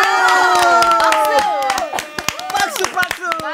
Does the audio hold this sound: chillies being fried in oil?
no